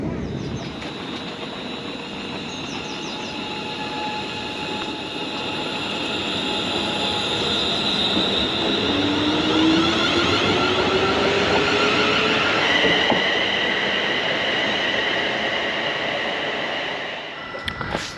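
A West Midlands Class 150 diesel passenger train rumbles steadily closer as it arrives, its engine drone and rail noise swelling over several seconds, with a rising tone as it approaches, then easing off.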